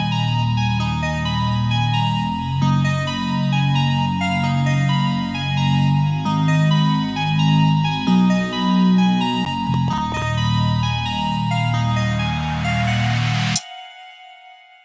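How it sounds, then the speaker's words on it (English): An FL Studio beat intro with a reversed melody over a bass line from the GMS bass 4 preset, built on steady repeating low notes with bright layered tones above, ending in a short rising reverse swell that cuts to silence. "And all together, the intro sounds like this."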